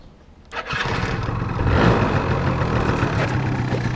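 A small two-stroke engine with the choke taken off starts abruptly and runs steadily, a loud buzzing putter holding a fairly even pitch close to the listener.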